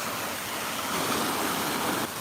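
Rushing water from a waterfall and flowing stream, a constant broadband hiss heard outdoors at moderate distance, steady and unbroken for a couple of seconds with no voices.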